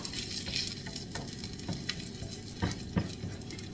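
Fajita ingredients sizzle steadily on a grill or hot pan, a dense crackling hiss with a few louder pops and stirring clatters, close and continuous with no talking.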